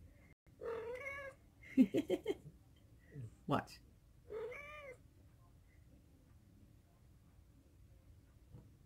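A house cat meows several times in short, close calls, with a person speaking softly around the meows in a quiet room.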